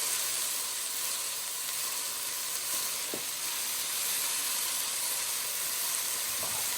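Mushrooms and garlic hitting a hot pan for potato leek soup produce a loud, steady, close sizzle that fills the whole stretch without pause.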